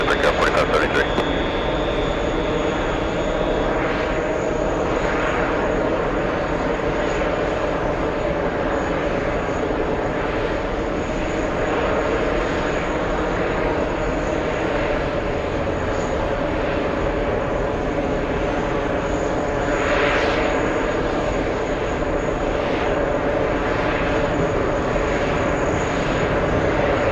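An airliner takes off from runway 22 right at JFK airport, a long, steady jet roar heard from a distance at the TWA Hotel, holding for the whole stretch with faint radio chatter beneath.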